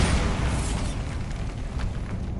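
The Bombarda blasting spell from the Hogwarts Legacy video game goes off as a loud, sustained explosive roar that fills the whole moment with a dense, rumbling burst.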